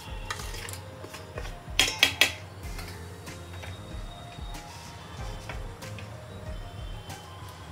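Chicken pieces are tossed with salt and pepper in a bowl, giving soft rubbing and light clinks of a utensil, with a quick burst of sharper clatters near the middle over a low steady hum.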